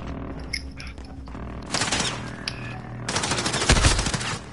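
Automatic gunfire in the Warzone video game, bursts of rapid shots starting midway and growing louder and denser toward the end, with a brief lull between volleys.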